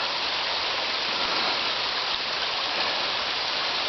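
Runoff water from a spring flows steadily in a continuous broadband rush, fairly close and even, with no voices.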